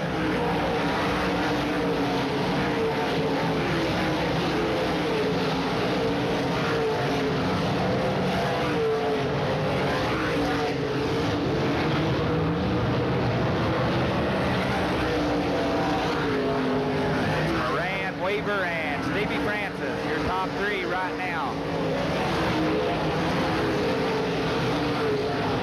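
Dirt track race cars roar around Eldora Speedway during the 1997 World 100, a lapping car closing on a lapped one, their engines forming a steady, dense, loud drone throughout with faint crowd or commentary texture underneath.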